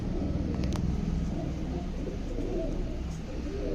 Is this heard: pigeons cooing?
yes